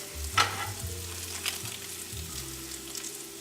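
Chorizo and egg frying in a pan while being stirred, a steady close sizzle with a low hum in the background and brief scraping stirs.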